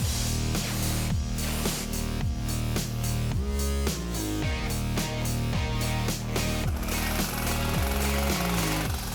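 A power saw cuts a Saab 99 car body panel whose surface is covered with masking tape, producing a loud, continuous buzzing rasp with a rhythmic, repeating rise and fall in pitch.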